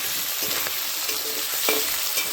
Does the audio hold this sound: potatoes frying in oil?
yes